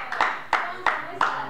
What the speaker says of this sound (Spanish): vamos a recibir con un fuerte aplauso a un Marcelo de la casa, a Juan Moreno.